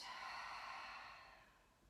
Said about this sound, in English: Breathing out.